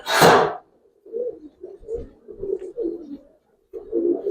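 Giribaz pigeon cooing inside a cage, a series of soft, low, rhythmic coos close by after a brief rustle at the start, with a short pause before the cooing resumes.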